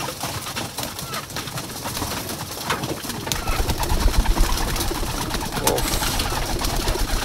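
Male racing pigeons cooing close by while feeding, soft repeated throaty calls over a busy, rustling background with occasional wing flutters.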